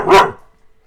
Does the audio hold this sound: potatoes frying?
no